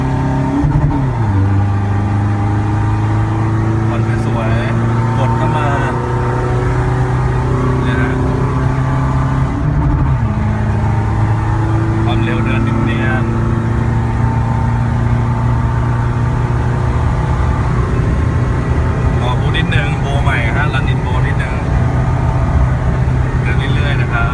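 Toyota Vigo Champ 2.5 turbo pickup with a 3000 turbo and remap, engine revving at half throttle, rising and falling through several loud close revs, with people talking over it.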